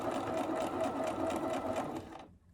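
A sewing machine back stitching a pleat in a fabric mask, a close, fast, steady mechanical whir running continuously for about two seconds before stopping abruptly.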